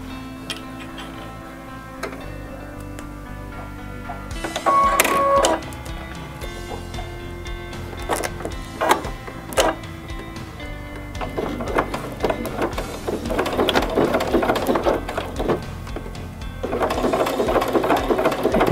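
Sewing machine sewing Velcro onto a baby bib, intermittent bursts of rapid stitching ticks with short pauses between runs, growing denser and louder toward the end, close by.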